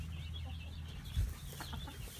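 A calm, broody rescue hen clucks quietly at close range in a series of low, soft clucks, with one slightly louder burst midway.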